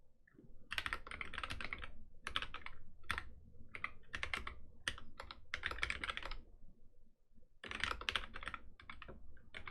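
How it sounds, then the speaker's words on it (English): Bursts of rapid clicky keystrokes on a computer keyboard, typed in uneven clusters with short pauses between them, close and fairly loud, with no talking over them. "I keep hitting the wrong button on my keyboard"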